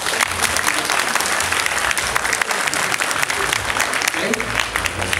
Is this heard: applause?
yes